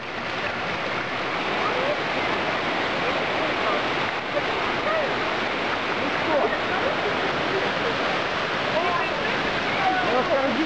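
Steady roar of the Su-Uchkhan waterfall in the Valley of the Red Caves, Kizil-Koba, a dense, constant rush of pouring water heard up close with no breaks.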